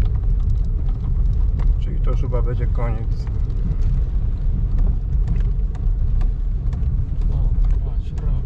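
A car drives slowly along a rough, stony dirt track on a dig outing, its low engine rumble and bumping steady throughout while people talk over it.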